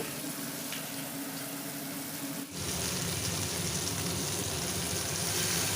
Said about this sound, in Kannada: ಒಂದು ಸ್ವಲ್ಪ ಹೊತ್ತು ಹೈ ಫ್ಲೇಮಲ್ಲೇ ಇಟ್ಕೊಂಡು ಇದನ್ನು ಫ್ರೈ ಮಾಡ್ಕೊತೀನಿ